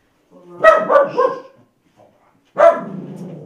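A dog barks loudly in a noisy tavern, two close bursts of barking and yipping separated by a short pause, heard alone without talk.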